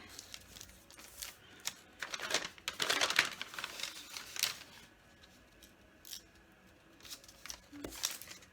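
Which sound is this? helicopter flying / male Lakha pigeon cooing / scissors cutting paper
scissors cutting paper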